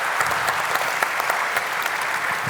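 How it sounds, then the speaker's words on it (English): A conference audience applauds a tech panel discussion, giving dense, steady clapping throughout with no voices. "Just give a round of applause to our panel"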